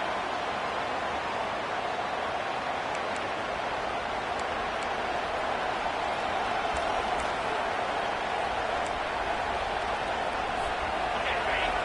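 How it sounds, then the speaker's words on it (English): A fired-up football stadium crowd early in the game makes a dense, steady roar that holds at an even level throughout, with no break or pause. "It's early, but this crowd is fired up. Listen to this noise here."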